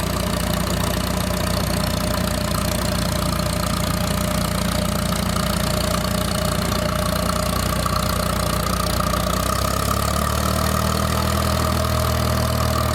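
An antique tractor engine chugs steadily at idle in a parade, a loud, close, continuous rumble with a knocking pulse that shifts slightly near the end.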